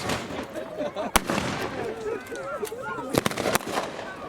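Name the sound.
WWII reenactment battle gunfire with Browning and Maxim guns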